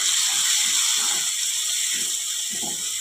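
Green chili and garlic paste sizzles loudly in a hot mustard-seed, cumin and asafoetida tempering for a village-style ridge gourd bhaji, a steady close hiss with soft intermittent crackles underneath.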